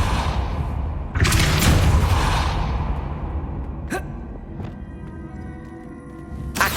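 A Depulso spell is cast in Hogwarts Legacy, a sudden forceful whoosh and blast that fades into a rumbling tail, with a couple of sharper magical cracks and hits following over a low game background.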